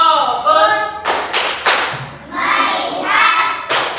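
A school class does a rhythmic focus clap, several sharp unison claps and thumps in a short patterned sequence, close and loud, with children's and a teacher's voices chanting between the beats.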